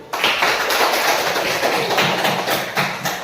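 A classroom audience claps for a group after its presentation, a dense burst of close, loud applause that stays steady for a few seconds without a break.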